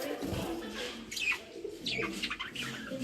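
Caged lovebirds give close, rapid chirps and squeaky calls in quick overlapping bursts throughout.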